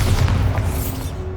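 Bombarda blasting spell explosions from the Hogwarts Legacy video game: a dense, continuous low boom with rumbling energy across the whole stretch, loud and close, with no voices.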